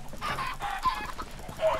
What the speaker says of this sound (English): I'm killing chickens for this.